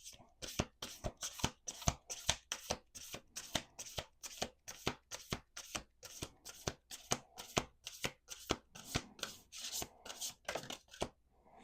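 Playing cards are shuffled over and over in quick, evenly spaced riffling bursts, close and crisp, with faint speech underneath.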